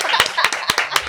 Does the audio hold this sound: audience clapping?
yes